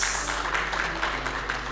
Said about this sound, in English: Yes, please could you give a very loud round of applause.